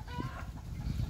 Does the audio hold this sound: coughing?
no